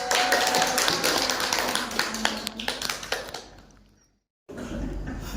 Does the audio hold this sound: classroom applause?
yes